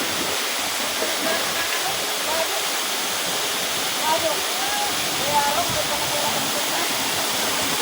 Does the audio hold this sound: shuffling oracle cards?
no